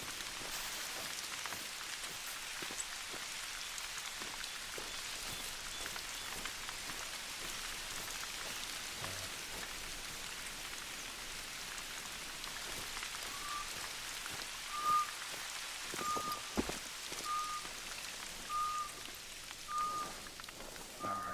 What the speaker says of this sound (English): It was raining and misty.